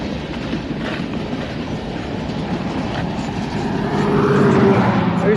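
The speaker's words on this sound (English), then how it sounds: "So Miz, you still like the sound of American trains?" An American train rumbles loudly past at close range, a steady heavy clatter of wheels on rails that swells slightly louder near the end.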